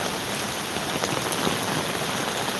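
Heavy typhoon rain pours onto an umbrella during Typhoon Hinnamnor in Ulsan, South Korea. A dense, steady hiss of drops drums close and loud without a break, and no voices are heard.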